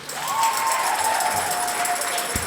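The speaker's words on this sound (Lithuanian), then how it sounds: "Dar vis plojam Jurgiui." An audience claps steadily for Jurgis, a dense, even wash of applause that holds at a constant level for a couple of seconds, with a faint sustained tone underneath.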